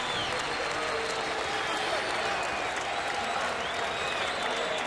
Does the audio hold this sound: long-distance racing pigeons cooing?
no